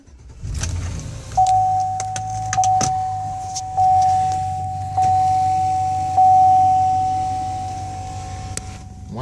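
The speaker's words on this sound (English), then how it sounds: "power moonroof" A power moonroof on a 2004 Chevrolet Suburban LT AWD with a 5.3 V8 runs with a steady electric motor whine in stepped bursts, with clicks and soft thumps as it moves and stops, close up inside the cabin.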